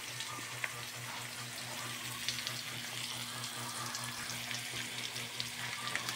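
Fish sizzles in hot oil in a home kitchen, a steady crackling fry with scattered pops and a low hum underneath, with no voices.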